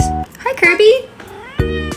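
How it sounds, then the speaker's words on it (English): A pet cat meows in a short rising-and-falling cry at close range, with a person talking just before and after it indoors during a makeup session. "That's my cat."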